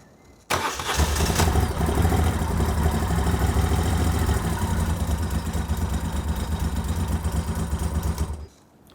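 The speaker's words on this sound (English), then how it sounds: "I suppose I better start the bike just to make sure that everything's okay" A Moto Guzzi 750 Breva motorcycle with a newly fitted battery fires up abruptly, then settles into a loud, steady, close idle for several seconds before shutting off.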